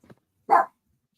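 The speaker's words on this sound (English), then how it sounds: "Sorry about my dog." A dog gives one short, sharp bark indoors, preceded by a faint soft yip, then silence.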